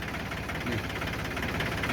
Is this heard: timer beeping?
no